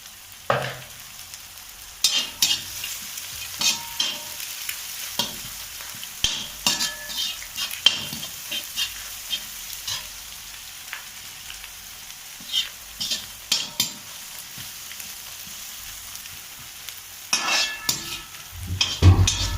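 Egg noodles are stir-fried in a pan, with repeated bursts of hissing sizzle and scraping stirs against the metal in an irregular rhythm, alone without speech.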